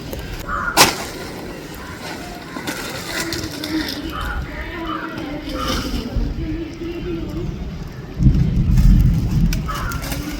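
Heavy rain pours steadily outdoors beside a yard cooking hearth, a dense continuous wash with a louder surge near the end and a sharp thud early on, while people talk underneath.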